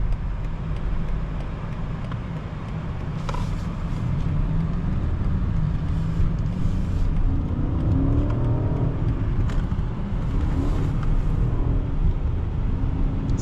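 Inside a 2025 BMW 760i xDrive on the road, the engine and drivetrain give a steady, deep hum with tyre and road roar that swells slightly under acceleration, a continuous cabin drone with no talking.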